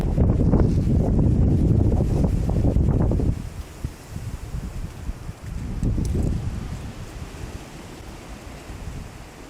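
An October windstorm roaring through treetops: loud, rushing gusts with some microphone buffeting, easing after a few seconds into a softer steady rush with another surge later.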